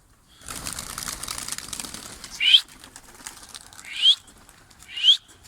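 Pet pigeons lift off, their wings flapping in a soft rustling burst. Three short, sharp whistle-like chirps follow at intervals over a quiet background.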